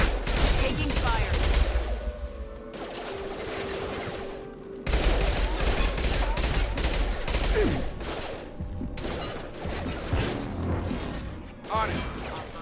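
Mass Effect 2 combat on Insanity difficulty, heard as sustained rapid gunfire bursts and booming impacts. Brief electronic tones and clipped in-game voice callouts cut in over the shooting.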